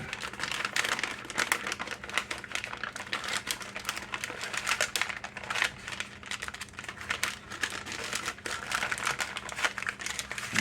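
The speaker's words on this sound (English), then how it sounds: "I'm going to wrap this in this butcher paper" Smoked cheddar being wrapped in stiff butcher paper: steady, close crinkling and crumpling with frequent sharp rustles throughout, no voices.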